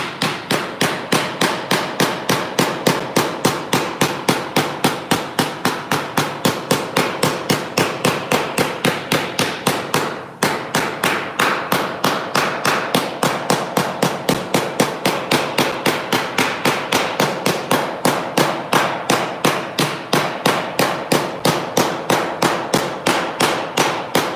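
A small hand hammer strikes sheet metal again and again, shaping a raised panel by hand; the blows land in a fast, very even rhythm, loud and close, for the full stretch with no voices.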